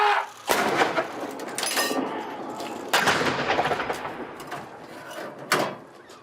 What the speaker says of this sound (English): preparing for this gun salute.